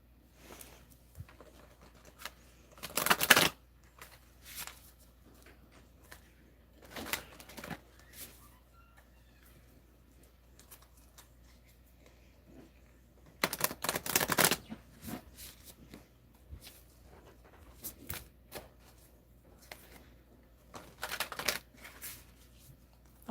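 Playing cards are shuffled in several short riffling bursts, crisp rapid flutters separated by quiet pauses with light handling sounds between.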